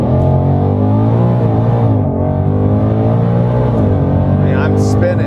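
A 2022 Ford Mustang Shelby GT500 Heritage Edition with Track Pack launching in track mode with its tires spinning, its engine roaring loudly and continuously with a rising, shifting drone heard close from inside the car.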